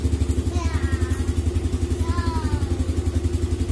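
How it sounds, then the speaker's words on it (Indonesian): A Yamaha Aerox motorcycle engine idles steadily with a low, pulsing rumble throughout, and faint clatter over it. "Ini motor kita on aja."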